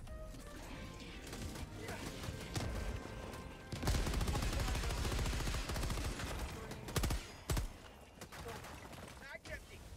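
Bursts of rapid gunfire and heavy shooting in the video game Helldivers 2, loud and sustained through the middle with sharp shots near the end, mixed with game effects and occasional speech.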